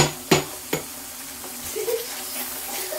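Coconut milk frying for latik with a soft, continuous sizzle as the oil renders out, broken early by two sharp knocks of a utensil on the pan.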